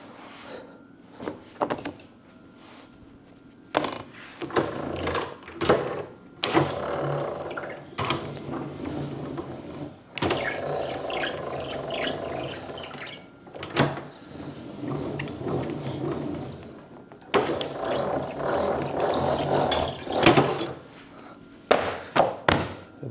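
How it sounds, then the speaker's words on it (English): A dough sheeter rolls hand-laminated croissant dough in repeated passes of steady mechanical rumbling. Clunks and rattles break up the passes as the machine runs back and forth. "Put it back on the sheeter, do another roll"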